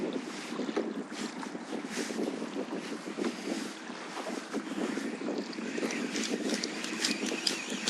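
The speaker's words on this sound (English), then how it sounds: "Sounds like a boat." Low, steady engine rumble of a passing boat heard from a kayak at sea off Port Ellen, Islay, Scotland, with wind buffeting the microphone and light splashing throughout.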